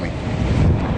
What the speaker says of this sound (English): wind has really picked up, as you can tell in the last couple of minutes